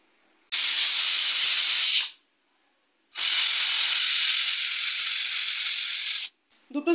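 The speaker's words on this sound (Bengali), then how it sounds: "প্রেশার কুকারটা ওভেনের উপর বসিয়ে দিলাম। 2টো সিটি দিয়ে নেব।" A pressure cooker of masoor and arhar dal on a gas stove lets out two loud, sustained steam whistles. The first lasts about a second and a half, and the second runs about three seconds after a short silence.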